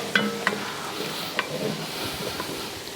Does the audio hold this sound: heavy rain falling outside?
no